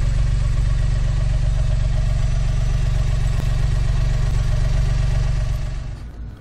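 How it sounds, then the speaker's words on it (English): A Tracker 800 SX LE 4x4 utility vehicle with a fuel-injected three-cylinder engine idles with a steady, quiet, low hum that fades near the end. "You know, it's very quiet. I really do like this three-cylinder engine."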